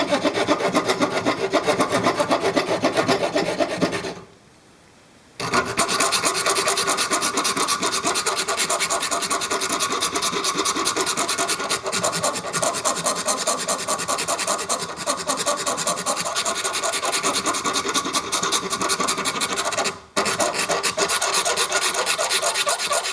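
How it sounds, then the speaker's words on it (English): Rasp filing G10 composite knife handle material: loud, continuous, rapid back-and-forth scraping strokes with one brief pause near the start and a short break later, close and harsh throughout. "Alright, commence the filing."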